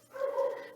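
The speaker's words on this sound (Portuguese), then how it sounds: "Desculpa o latido aí, meu cachorro está descontrolado hoje." A pet dog gives a single short bark or yelp, fairly close and clear, heard on its own.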